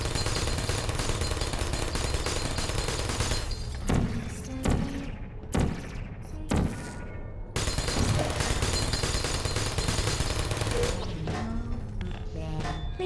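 Turret gunfire in the video game Portal: sustained dense bursts of rapid automatic fire, loud and near, broken midway by several short pauses and single heavy thuds before the continuous firing resumes.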